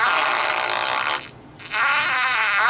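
Novelty sound-effect button toy repeating its fart sound with the button held down: a loud, raspy electronic blast, a short near-silent gap, then the same sound starting again, close up with no voices.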